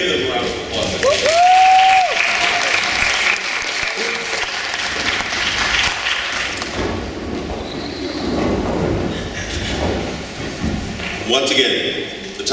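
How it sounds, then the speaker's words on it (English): A middle school debate audience gives a long, dense round of applause that fills the room, loud and steady, with voices mixed in and a brief whistle-like tone near the start. "Let's give them a round of applause."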